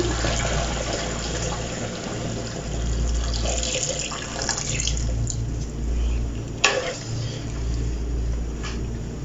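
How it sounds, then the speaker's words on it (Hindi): About four cups of water pour into a pot of chicken and potato curry (aloo chicken salan), a continuous splashing gush over a low hum, broken near the end by one sharp metallic clink. "तो अब मैं 4 कप के करीब पानी डालूँगी इसमें।"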